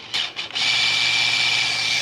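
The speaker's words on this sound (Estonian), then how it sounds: "Nii, ja siin on nüüd pool võimsust mootoril." Electric motor of a combat robot running at half power, a brief stuttering start and then a steady high-pitched whine at close range.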